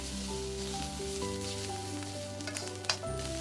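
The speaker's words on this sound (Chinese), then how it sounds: "加入少量的油，放入黄面条， 用筷子把面条松开" Yellow noodles stir-fried in a little oil in a wok give a steady, close sizzle over a low hum, with a few sharp utensil clinks near the end.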